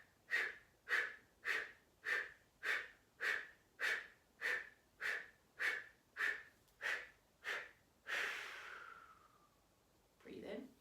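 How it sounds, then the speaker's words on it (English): Fast Kapalabhati yoga breathing: about a dozen sharp, evenly spaced forced exhalations pumping air out through the nose, followed by a longer breath and a brief voice. "This is a bit like Kapalabhati breathing in yoga."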